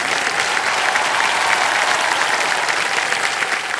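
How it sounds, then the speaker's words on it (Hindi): Loud, sustained studio audience applause on a televised quiz show, thick continuous clapping that stays constant and close for the whole stretch, with no talking. "तालियां बज जाएं"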